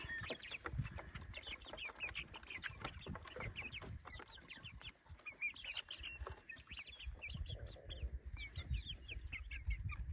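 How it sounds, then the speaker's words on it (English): Several hens in a North Idaho backyard coop in the morning cluck and squawk in repeated short bursts, fairly close, with birds chirping in the background and no talk. "Aren't you just a pretty chicken?"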